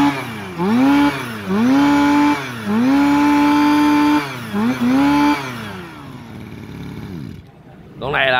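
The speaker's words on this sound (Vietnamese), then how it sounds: "Tại vì động cơ con này nó nổ nghe nó sướng tai lắm" A Robin two-stroke twin-cylinder grass cutter engine revs loudly and close in repeated bursts, its pitch rising and falling with each throttle pull before dropping back to a rough idle.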